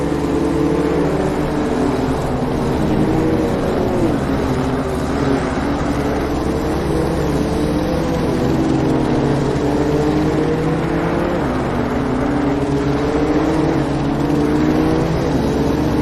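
A BMW M2 CS race car laps Brands Hatch in a Cup round, its engine droning loud and continuous while rising and falling through the gears, with no talk.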